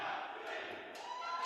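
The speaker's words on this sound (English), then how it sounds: "the team's making some last-minute noise before they come out to do battle" Wheelchair rugby team shouting together just before a European championship final match, a sustained loud roar of many voices filling a large indoor arena, with crowd noise layered underneath.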